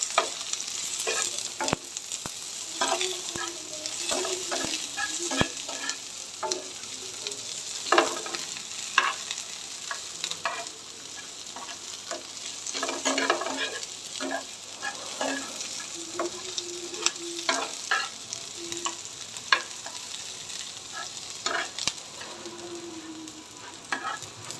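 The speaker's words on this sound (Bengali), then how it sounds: "পেঁয়াজ আর রসুন একসাথে ভেজে নিচ্ছি।" Onion and garlic fry together in a pan with a soft, continuous sizzle. Frequent clinks and scrapes from stirring break through it over a long stretch, and no one speaks.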